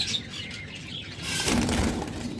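Pet lovebirds and cockatiels, including albino red-eye cockatiels, flap their wings in a cage with faint chirps, the fluttering growing louder and closer in the second half.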